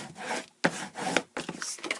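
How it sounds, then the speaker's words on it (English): Paper being creased and folded by hand while making a paper basket, close-up dry rubbing and swishing strokes in three short bursts separated by brief pauses, no voices. "kind of crease your folds in"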